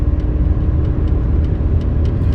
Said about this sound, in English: now we're going past 100, and on the fourth gear we've already done 120